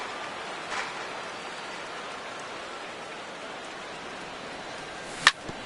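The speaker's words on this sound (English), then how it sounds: "that rain is really coming down right now" Heavy rain falling during a Dodgers baseball video game, a steady, fairly quiet broadband hiss of downpour with a brief sharp tap near the end and no talk.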